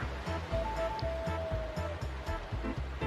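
Rushing waterfall in the Pokemon Snap video game, Swift Valley stage: a steady, full roar of falling water with a rhythmic low pulsing under it and a thin tonal game sound drifting over the top.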